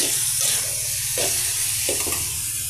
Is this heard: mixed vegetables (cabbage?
yes